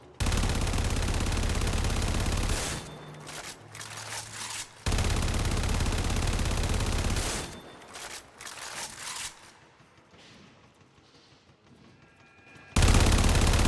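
An AK-47 rifle in the video game Warframe fires in loud sustained automatic bursts, two long strings of gunfire separated by brief pauses and a final burst at the end.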